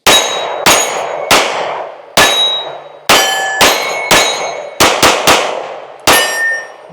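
Bullets from a CSX E Series pistol strike a metal shooting target: around ten sharp, loud cracks at an uneven pace, each followed by a short metallic ring that fades before the next.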